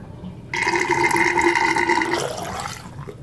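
Water splashes and trickles steadily for a couple of seconds as it is wrung out of hair, then tapers off into a lighter drip, close up with no talking.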